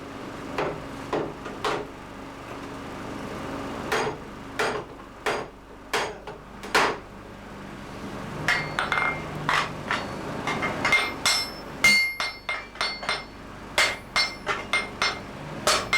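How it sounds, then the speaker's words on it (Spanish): Blacksmith hammering sheet metal flat on an anvil while forging a farm spade, a long series of sharp ringing blows, at first spaced out and then quickening into dense bursts, close and clear with no talk. "cuando tiene que estirarla o modelarla en plano, lo hace en el yunque"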